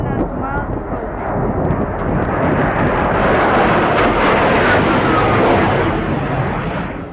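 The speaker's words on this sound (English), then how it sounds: "We have two Russian SU-24s currently conducting multiple passes at CPAs of 75 feet." Russian Su-24 jets making repeated close passes over a ship at sea, a loud, sustained broadband jet roar that swells and holds steady for several seconds with no pause.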